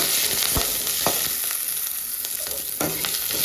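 Onions and green chillies fry in a home kitchen pan, a continuous hiss of sizzling oil broken by a few sharp scrapes and clacks of stirring, close and fairly loud with no voices.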